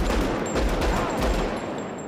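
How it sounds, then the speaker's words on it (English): Loud gunfire from a shootout in the 2004 film Collateral, a dense burst of shots crashing over one another in a sustained, booming barrage with no clear gaps. "loud gunshots. Aren't you supposed to have a silencer?"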